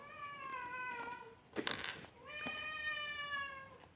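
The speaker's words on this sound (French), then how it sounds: "Désolée pour mon chat." A cat meows twice, long tonal cries close by, separated by a brief rustling noise, in an otherwise quiet room.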